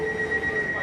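An Elizabeth line Crossrail train bound for Abbey Wood via Canary Wharf runs with a steady whine and a sustained high tonal hum over low rumble, no talk.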